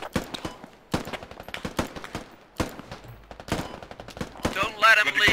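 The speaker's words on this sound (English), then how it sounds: "Keep that suppressive fire on through the fucking smoke." Rapid bursts of suppressive gunfire crack in a video game, close and loud, with short automatic volleys separated by brief pauses and a louder burst at the end.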